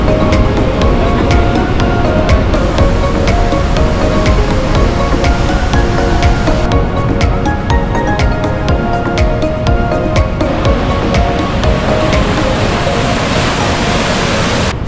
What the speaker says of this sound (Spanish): Tal como pueden ver aquí, ahí está la cascada